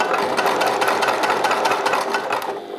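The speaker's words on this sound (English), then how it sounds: "I'm going to go ahead and stitch that corner closed." A sewing machine stitches closed the corner of a triangle shoulder bag, running close and loud with a steady, fast mechanical chatter and no pauses.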